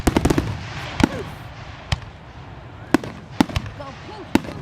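Fourth of July fireworks: sharp, irregular bangs and crackling pops, a quick cluster at the start and then scattered reports, with people talking throughout.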